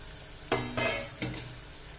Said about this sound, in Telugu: అండ్ ఫైనల్గా అయితే మనకి చికెన్ చక్కగా ఫ్రై అయిపోయింది.